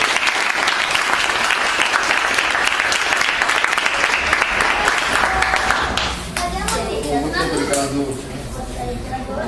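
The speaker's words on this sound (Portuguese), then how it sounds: "Queria que vocês recebessem com uma salva de palmas." An audience applauds warmly as a speaker is welcomed to the stage, dense sustained clapping that fills the room before tapering off, with voices starting to talk over the fading applause.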